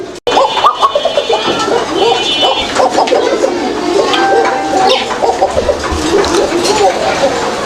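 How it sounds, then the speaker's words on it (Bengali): A pair of Koka pigeons at a market stall coo softly in the background while someone talks loudly and continuously over them. "এটা হচ্ছে কোকা কবুতর একটা জোড়া"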